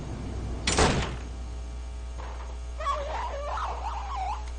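Knocking on a door, a short cluster of hard raps at the start, followed by a faint thump and then a voice speaking.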